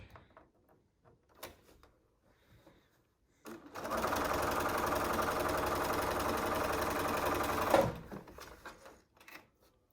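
A sewing machine stitches a hospital-approved fabric face mask in one steady, even run of about four seconds, loud and close, with quieter handling noises before and after.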